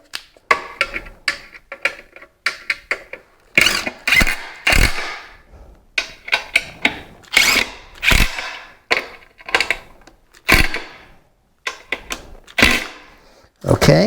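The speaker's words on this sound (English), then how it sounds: "we'll tighten them up with our screwdriver." A screwdriver tightening the screws on a ceiling fan blade during installation, heard as a loud, close series of sharp clicking and ratcheting bursts in an irregular rhythm with brief pauses between turns.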